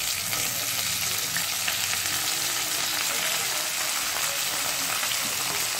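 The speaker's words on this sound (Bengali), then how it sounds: "এক মিনিট ভাজার পরে আমি এর মধ্যে পেঁয়াজগুলো দিয়ে দেব।" Onions fry in hot oil in a wok for cauliflower Manchurian, a dense, unbroken sizzle that stays loud and even throughout with no talking.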